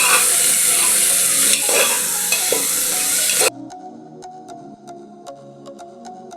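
Onions for a coconut milk mutton gravy frying in a pan, a loud, bright sizzle with repeated stirring scrapes, then the sizzle drops away abruptly and leaves only faint, sparse clinks and ticks.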